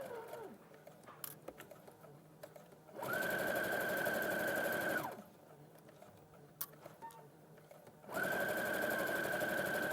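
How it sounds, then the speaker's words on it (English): A sewing machine stitches a line along the folded edge of lightweight fabric for a hem, running in two steady, loud bursts with quieter pauses between them. "I'm just going to run the line of stitching along the folded edge."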